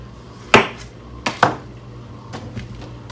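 A kitchen knife chops through food on a cutting board during meal prep, a few sharp, close knocks spaced unevenly, followed by softer taps, with no talking.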